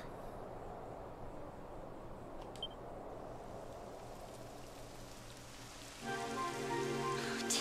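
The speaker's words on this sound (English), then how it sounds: "It would have to go and start raining, wouldn't it?" Rain falling in the Dragon Quest XI video game, a steady soft patter that continues throughout, fairly faint, with a brief click and a tonal music layer entering near the end.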